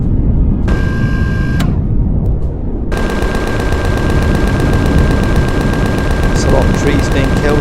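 A chain gun fires in the space-survival game Empyrion Galactic Survival, first a short rapid burst, then after a brief gap a long continuous stream of fast loud shots.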